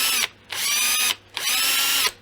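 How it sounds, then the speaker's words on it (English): A power drill boring a shallow pilot hole into wood, two bursts of whining motor and cutting noise separated by brief pauses, close and fairly loud. "I'm just first gonna drill very"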